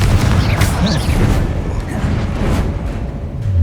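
Confringo explosion spell going off in the video game Hogwarts Legacy, heavy low booming blasts in quick succession amid battle noise, loud and close.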